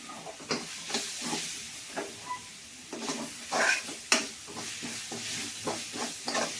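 Liver fry being stirred in a hot pan with pepper powder, a spoon scraping and tapping in an irregular rhythm over a soft sizzle, close and moderately loud with no voices.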